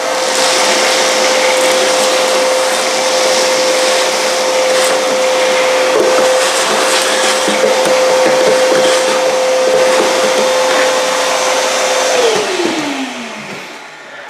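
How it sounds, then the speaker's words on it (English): A loud vacuum cleaner whines steadily for a long stretch, with rattling debris getting sucked out of a 1988 Yamaha Moto 4 ATV, then winds down as it shuts off. "I am gonna get the vacuum cleaner and suck that all out of there"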